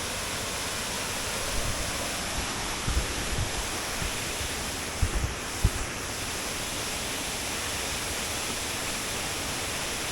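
Muthyapu Saaradi waterfall near Venkatapuram in Mulugu district roars in a steady, dense rush of falling water, constant throughout with a few faint knocks.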